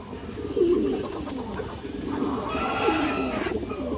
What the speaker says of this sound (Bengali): বড় সাইজের কবুতর দর্শক।